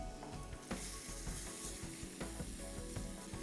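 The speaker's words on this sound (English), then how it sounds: "I'll add the paste and then saute it." Indonesian spice paste of lemongrass, galangal and spices sautés in a hot pan for sayur lodeh, making a soft, steady sizzle broken by light scraping and ticking as it is stirred.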